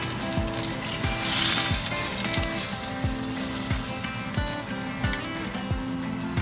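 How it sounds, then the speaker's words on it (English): Steak searing in a hot pan gives a steady, fairly loud sizzle, with repeated sharp clicking or ratcheting taps over it and no talking. "Oh, we got some steaks in here. So I'm gonna grab this big one here. To do a little sear."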